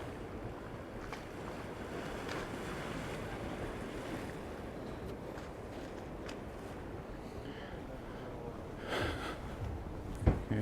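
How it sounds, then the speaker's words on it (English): Stormy sea surf washing against rocks along the coast at Sant Elm, Mallorca, a steady loud roar of breaking waves mixed with wind noise on the microphone, continuous throughout. "there's some waves bashing against the rocks, and really it's quite stormy on there still."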